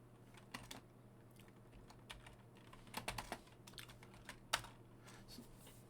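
Quiet, close clicking of a computer keyboard as Python code is typed, in irregular bursts of keystrokes with brief pauses and a few louder taps.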